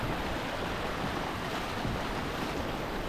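Floodwater rushes past a bridge during rain, a steady, loud broadband roar of churning water mixed with wind buffeting, continuous and close throughout.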